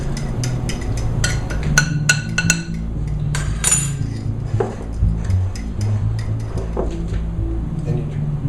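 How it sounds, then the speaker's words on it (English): Cornbread batter stirred by hand with a fork in a bowl, a quick run of light clinks and taps against the bowl, with some low background noise. "I can just stir it up with a fork."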